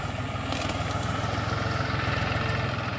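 A tractor engine drawing closer, a steady low chugging pulse with an even rhythm, fairly loud and close with no talk over it.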